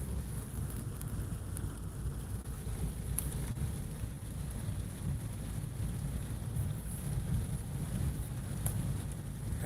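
Rain and wind outdoors around Pigeon Forge, Tennessee, making a steady broadband hiss with low buffeting rumble, constant and moderately loud throughout.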